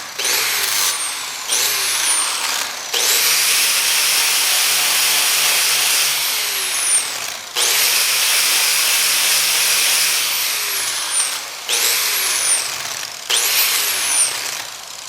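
A slow grinding wheel polishes an old hammer during a restoration, its motor whining steadily with repeated bursts of loud grinding hiss as the metal is pressed on and lifted off the wheel.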